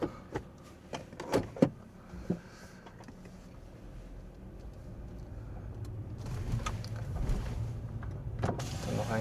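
A Mercedes-Benz E280 W211 pulls away, its engine and road rumble building steadily from quiet after a few sharp clicks and thumps from inside the cabin at the start.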